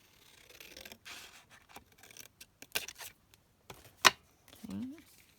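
Scissors snip through leftover paper scraps in short, close cuts mixed with paper rustling and scraping, irregular and fairly quiet.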